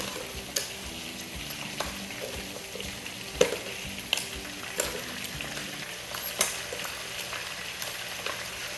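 Shrimp and lobster sizzling in a hot pan for a pasta dish, a steady close frying hiss with occasional sharp pops and scraping taps throughout, and nobody speaking.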